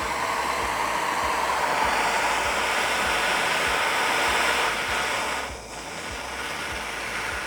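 A heat gun blows hot air onto solder inside a cable connector, a loud, steady whooshing roar that holds constant, dips briefly, and then continues.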